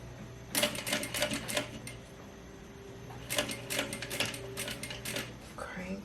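A Juki DDL 8700 industrial sewing machine stitches in two short, rapid runs of mechanical clatter, close and fairly loud, separated by a pause over a steady motor hum.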